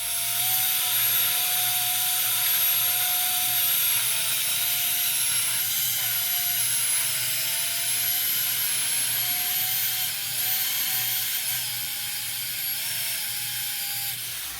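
A Tri Tool 204B J-prep machine cuts pipe with a steady, loud, high-pitched mechanical whine over a low hum that runs unbroken throughout, with no voices.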